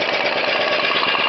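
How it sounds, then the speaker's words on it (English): A small two-stroke engine fitted to a homemade rig runs steadily and loudly up close, a continuous buzzing drone with a fast, even pulse throughout. "I've just rigged up one off of a small 2-stroke engine on there. It runs pretty good."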